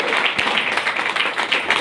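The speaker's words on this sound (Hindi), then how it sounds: "एक बार जोरदार तालियां बजाओ" Dense crowd applause, a steady wash of many hands clapping at close range with no pauses.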